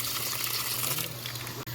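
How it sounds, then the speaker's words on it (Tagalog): Water gushes steadily and loudly in a Korean summer outdoor setting where people soak their feet and play, a continuous broadband rush that holds nearly constant through the moment, with no talk over it. "may tubig yan siya, guys"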